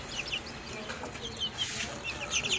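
Bantam Cochin chickens cluck softly in a coop, with scattered short clucks and murmurs overlapping at a moderate distance against a low background hum.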